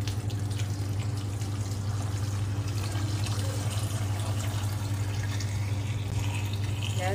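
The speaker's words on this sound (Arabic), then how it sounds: "اوكي نحط المي." Tap water pouring steadily into a cooking pot while dolma is being made, a loud, close, continuous rushing splash that holds an even level throughout, with no talking.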